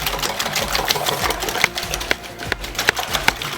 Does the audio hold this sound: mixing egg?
yes